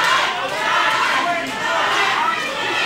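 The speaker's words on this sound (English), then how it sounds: "Hear the crowd screaming for Jaie at the moment." A distant, roaring crowd cheering and shouting in a large arena at a stand-up combat fight, a continuous wash of voices with swelling peaks.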